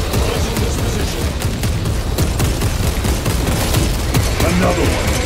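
Orbital guns pound away in Space Marine 2, a loud, dense barrage of gunfire and blasts rolling continuously over a heavy rumbling battlefield din.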